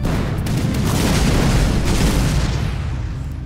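A tank shell explodes in the artillery game ShellShock Live, a loud, deep boom with a long rumbling tail that fades over a few seconds, with no voices over it.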